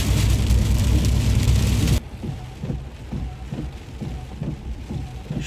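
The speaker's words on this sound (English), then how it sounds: "Sheets of rain." Heavy rain pours down in sheets on a road in the Baltimore region, a loud dense roar for two seconds before dropping to a softer steady patter with a low rumble of passing traffic.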